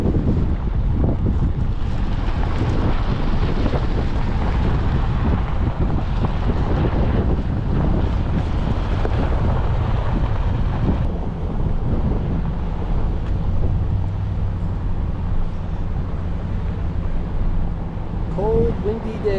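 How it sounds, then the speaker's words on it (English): Strong, cold wind in Capitol Reef's Northern Waterpocket Fold buffets the microphone in a constant heavy rumble, with faint voices barely audible beneath it. "Cold, windy day."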